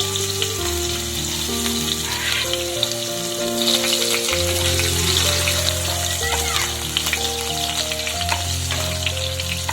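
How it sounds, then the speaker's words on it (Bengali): Bitter gourd pieces fry in hot mustard oil, giving a constant close crackling sizzle with steady tonal sounds running underneath. "লাল লাল করে আমি উচ্ছেগুলোকে ভেজে নেব"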